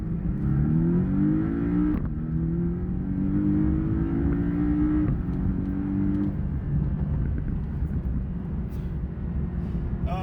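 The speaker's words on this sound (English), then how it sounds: "All right, I'm gonna floor it in sport mode here." A Porsche 718 Cayman accelerates at full throttle in sport mode, its engine note climbing steadily through the revs with brief dips at gear changes, loud and continuous from inside the cabin.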